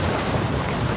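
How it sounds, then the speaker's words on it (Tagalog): Strong typhoon wind and rain roaring at Manila Bay, a dense, steady rush of noise with wind buffeting the microphone, loud and continuous. "Kasi malakas yung buhos ng ulan niya, eh. Di yung hangin malakas din."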